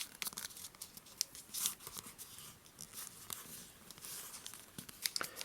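A sheet of origami paper is folded and sharply creased for a traditional bird, giving close, faint crinkling and scraping rustles with a few crisper snaps.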